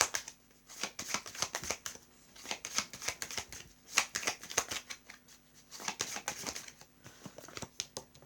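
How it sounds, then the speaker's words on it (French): Tarot cards are shuffled and drawn by hand, giving crisp riffling snaps and slides in uneven bursts, close and fairly quiet, with brief pauses between handfuls. "je tire toujours la première carte"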